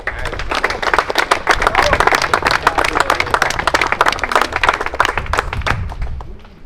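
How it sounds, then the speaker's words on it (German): A crowd at a turbo-kart race awards ceremony in Wohlen, Switzerland applauds energetically, dense clapping rising quickly and holding strong before tapering off at the end. "Ein riesen Applaus für das 68 Überhol GmbH."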